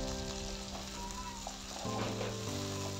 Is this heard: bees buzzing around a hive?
no